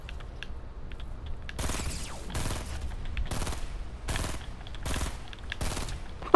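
Video game gunfire in repeated bursts, five or six rapid automatic volleys each lasting about half a second, separated by short gaps over a quiet mechanical background.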